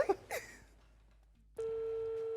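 An outgoing phone call rings out to a mother's phone: a brief rustle, a short quiet pause, then a steady, sustained ringback tone.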